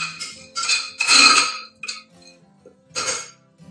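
Spices, ginger and chillies roasting in a pan, heard as a few bursts of metal spoon scraping and clinking against the pan with short pauses between, close and distinct.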